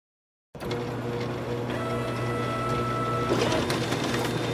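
An office photocopier runs with a steady mechanical hum and whir that starts abruptly and continues evenly, with faint rhythmic clicks layered on top.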